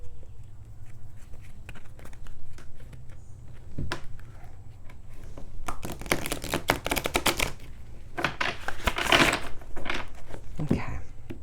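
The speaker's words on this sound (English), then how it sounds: "One more shuffle." Tarot cards are shuffled: rapid papery riffling and soft slaps come in bursts, growing busier midway, with a few sharper taps near the end.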